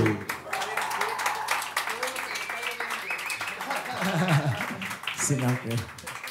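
An audience at an acoustic music session applauds a trombonist, steady clapping mixed with a voice talking over it and some low murmur, the crowd sound holding through and rising slightly toward the end.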